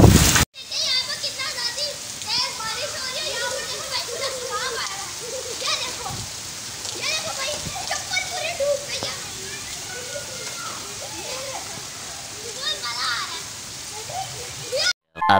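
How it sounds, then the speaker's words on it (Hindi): Heavy rain pours down outdoors in Saddar, Rawalpindi, during Independence Day decorations, a dense steady hiss close by, with scattered children's voices and talk mixed in. "सही तेज बारिश हो रही है"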